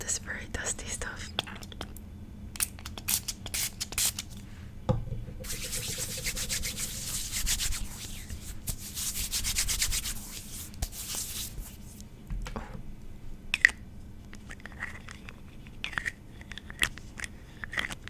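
Hands rubbing together with hand sanitizer, a soft close-up swishing and friction that builds into a dense, continuous rub for several seconds, then fades back to lighter brushing and faint taps, whisper-quiet overall.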